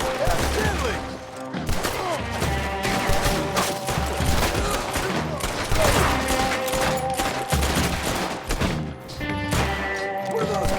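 Gunfire rattles in the Red Dead Redemption 2 video game, a dense fusillade of shots and crashes over a rumbling game soundtrack.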